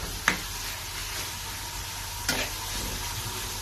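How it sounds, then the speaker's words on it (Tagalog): Sautéed pork sizzling steadily in a pan while being stirred, with two sharp clanks of the utensil against the pan over the constant frying hiss; no talking. "muli kong hinalo-halo yung aking ginisa"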